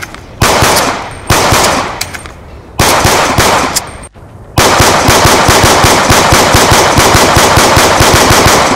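Dual-wielded TAC-45 pistols firing in Black Ops 2: three short bursts of rapid, loud shots, then a continuous stream of fast gunfire, close and alone.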